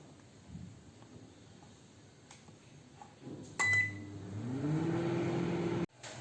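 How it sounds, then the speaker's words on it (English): A steady low hum of a microwave oven preheating for baking, with a brief beep partway through and a louder droning stretch before it cuts off near the end. "My microwave has been preheated."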